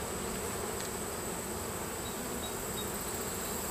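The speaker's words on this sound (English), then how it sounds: "There's a lot of bees in here." Dense, steady buzzing of many honey bees close up in an open hive, a constant droning hum with no pauses and no voices.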